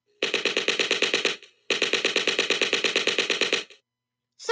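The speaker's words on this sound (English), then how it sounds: "That machine gun sucks." Two long bursts of rapid, evenly spaced machine gun fire from a sound effect, loud and crisp with a brief gap between them, and the start of another burst at the very end.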